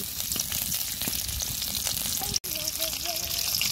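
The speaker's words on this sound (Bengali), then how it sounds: "তেলের উপর দিয়ে দিব গোটা জিরে আর 2টা এলাচ পেঁয়াজ কুচি" Whole cumin seeds, two cardamom pods and chopped onion sizzle in hot oil in a kadai, a continuous close crackling fry with a brief cut partway through and a faint voice-like tone underneath afterward.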